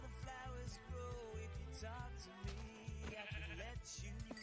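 Sheep in the Minecraft video game bleat a few times, quietly, over a steady pulsing music background.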